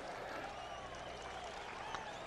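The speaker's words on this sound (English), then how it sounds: "I love the golf claps." Golf claps from the gallery in the PGA 2K23 video game, a soft, continuous patter of crowd applause heard at a modest level.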